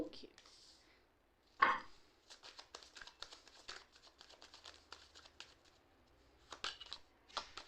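Tarot cards being shuffled close by, a soft quick ruffle of sliding and flicking cards in bursts with a sharper snap near the start, faint and alone.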